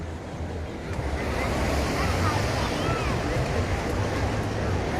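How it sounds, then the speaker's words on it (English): Rough surf near Waikiki Beach, Hawaii, rumbles and crashes in a loud, continuous wash of breaking waves, with wind buffeting the microphone and a person talking underneath. "Well, look at the waves today."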